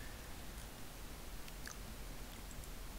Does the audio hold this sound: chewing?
yes